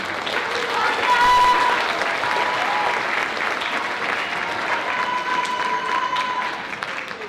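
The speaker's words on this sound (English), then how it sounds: "Please give them a warm, welcoming round of applause." An audience at a school winter concert for CHS and JMMS gives warm, sustained applause, a loud even wash of clapping with a slight swell early on that continues throughout.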